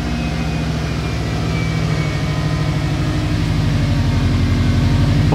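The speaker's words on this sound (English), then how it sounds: "So maybe we start the car." A GD-generation Subaru WRX engine idles with a loud, close, rhythmic low rumble that holds steady and grows slightly stronger toward the end, with no talking over it.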